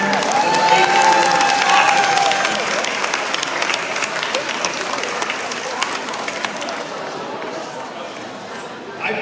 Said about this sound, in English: Here's applause for all of the great people that we partner with